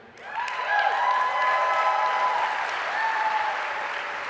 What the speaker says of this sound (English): A third of the room clapped.